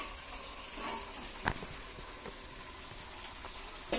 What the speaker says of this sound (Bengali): এই যে আমার মাংস রান্না করছে